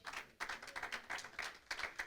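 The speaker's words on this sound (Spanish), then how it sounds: "Dele un aplauso al Señor." A church congregation claps in a loose, quick rhythm, the applause fairly faint and distant, with scattered overlapping claps and no clear voices.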